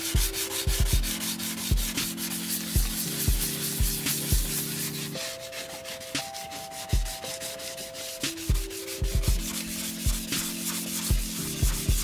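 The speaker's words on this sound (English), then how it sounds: "take some coarser sandpaper to that and try to rub it back a little bit and just flatten it out" Coarse sandpaper is rubbed over a car bumper to flatten it before wrapping, with rhythmic back-and-forth scratchy strokes over a steady tonal hum, loud and close, with no talking.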